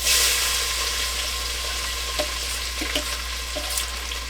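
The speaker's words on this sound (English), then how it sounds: "1 medium onion, 2 cloves of garlic. We're going to throw that in here and let it saute" Chopped onion and garlic sautéing in a hot pan, a steady close sizzle and crackle with a few scattered light taps, continuing throughout.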